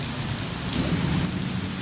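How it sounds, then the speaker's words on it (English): Heavy rain pours steadily and loudly outside a store during a thunderstorm, a dense continuous wash with a low thunder rumble underneath, no voices. "now it is just really pouring rain"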